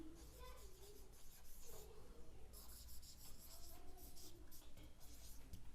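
A pen writes on a board or paper during a grammar lesson, giving quiet scratchy strokes in short bursts under a faint background hum.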